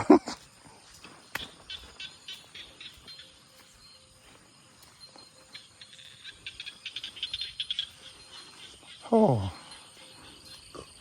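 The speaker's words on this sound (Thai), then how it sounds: "ธรรมชาติมาเสียงกบเสียงเขียด" Frogs croaking in an open rice field, scattered faint calls and a burst of chirping croaks among outdoor ambience, with faint footsteps and a voice speaking nearby.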